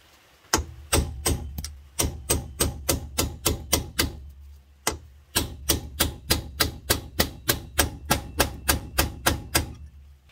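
A hammer drives out a Porsche Boxster brake pad pin, struck in two quick runs of sharp, evenly spaced metallic blows with a brief pause between them, close up and with no talking.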